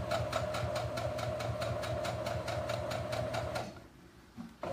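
A sewing machine stitches a seam in a fast, even needle rhythm with a steady motor hum, close and loud, then stops abruptly near the end, leaving a faint handling noise.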